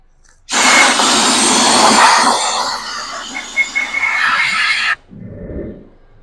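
Compressed air blowing debris from the spark plug area of a 2020 Nissan Frontier 3.8L engine: a loud, steady hissing blast lasting several seconds, then cutting off abruptly, followed by a brief low thump.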